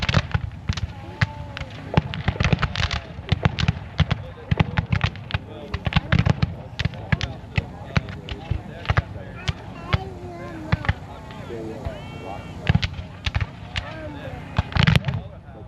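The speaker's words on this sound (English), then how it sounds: "Now they've been held in place by Union fire and battery fire." Musket and artillery fire at a Civil War re-enactment of the Battle of Cedar Creek, heard as a dense run of sharp, cracking shots at irregular intervals throughout, with people talking underneath.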